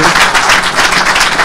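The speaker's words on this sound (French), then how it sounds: "donc on va t'applaudir, Frédéric, pour ta prestation." Dense, steady applause from a group, loud and close, with no talking over it.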